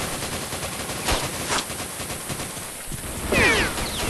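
Gunfire aimed at a tank in the video game Vietcong, rapid machine-gun bursts and single shots crackling over a steady noisy background, with a louder flurry near the end.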